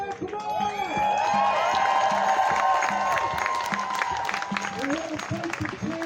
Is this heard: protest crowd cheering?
yes